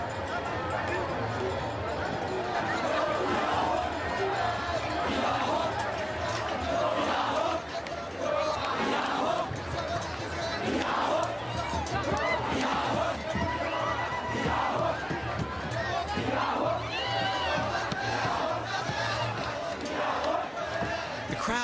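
A large crowd at an Ethiopian baptismal festival moves toward King Fasilidas' bathing pool, a dense, continuous roar of many voices, shouts and chanting that fills the scene throughout.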